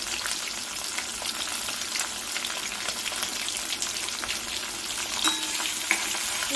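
Chopped onions and two green chilies frying in a pan while amaranth leaf fry is cooked, a steady dense sizzle throughout with a few faint scrapes, no voices.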